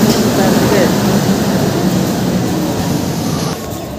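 A train hauled by a WAG-12 locomotive pulls into platform 3 at Puri station with a loud, steady rumble of cars and wheels that eases slightly near the end.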